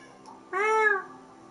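A single cat meows once in the Minecraft video game, a short clear tonal mew that rises and falls, close and alone over quiet background.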